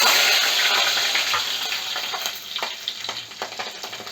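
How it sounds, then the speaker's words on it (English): Mustard seeds, cumin, curry leaves and green chili frying in hot oil for tomato chutney, a loud burst of spattering sizzle at first that gradually settles into steady crackling with scattered pops. "Allow the mustard to splatter."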